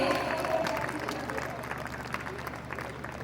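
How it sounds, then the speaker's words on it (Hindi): Applause from a school festival audience for a young student honored as sports person of the year, a steady wash of clapping and crowd murmur at moderate distance that fades gradually. "जोरदार तालियां हो जाए इस बच्ची के लिए।"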